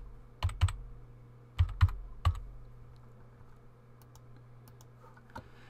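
Several bursts of computer keyboard keystrokes in two quick clusters, then a lone key tap near the end, close and clear against a low steady hum with no talking.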